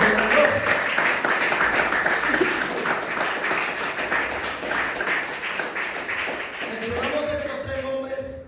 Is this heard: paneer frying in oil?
no